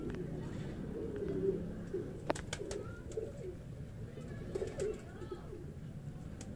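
Pigeons coo softly and repeatedly close by, low rolling calls with a few sharp clicks and flutters, over a quiet, faintly noisy background.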